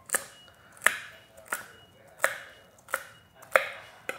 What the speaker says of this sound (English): And then the celery, I usually like cutting it in half.